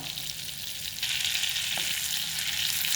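A steady sizzle of butter in a hot pan, hissing close by and growing a little louder partway through, with no talking.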